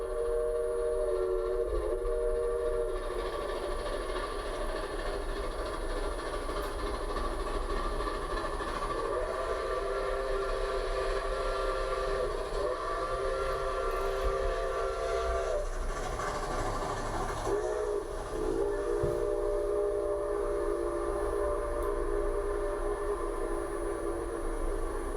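A 1980s train locomotive rumbles past with heavy, continuous exhaust roar, while a loud whistle sounds in several drawn-out blasts over the steady engine noise, close and dominant with no talking.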